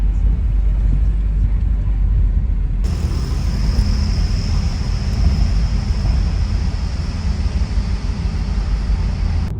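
A car rolls aboard a ferry ship on a windy ocean crossing, giving a steady loud low rumble of engine and hull noise, with a brief change partway through and constant wind-like hiss.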